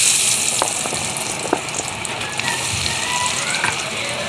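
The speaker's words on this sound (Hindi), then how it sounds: "इस टाइम पे आगे तेल गर्म है, इसके बाद अपनी फ्राइज़ रख देंगे।" French fries coated in cornflour sizzling in hot oil, a loud, continuous frying hiss with occasional pops and crackles, close and alone.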